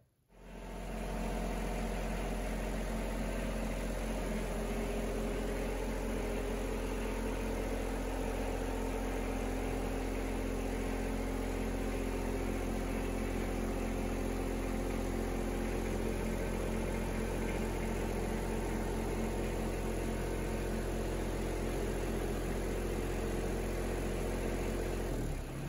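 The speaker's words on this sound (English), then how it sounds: "So we're going to get the tractor fired up and drive it up over the mower deck." A Yanmar SA324 compact tractor with a mid-mount mower deck runs at a steady idle after starting, its diesel engine holding a constant low rumble with a faint whine, close by and alone for the whole stretch.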